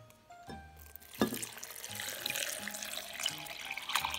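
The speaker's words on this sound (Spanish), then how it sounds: "Ahora la echaré complemento el agua." Water runs from a faucet and is poured in to top up a homemade Christmas fruit juice with lemon, a steady close splashing stream that lasts several seconds after a brief clink.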